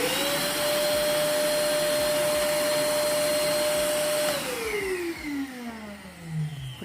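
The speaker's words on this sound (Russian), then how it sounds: "как и все строительные пылесосы, по мощности, по звуку он такой мощный" An Einhell construction vacuum cleaner runs with a loud, steady motor whine and airflow roar, then its pitch slides down as the motor winds down toward the end.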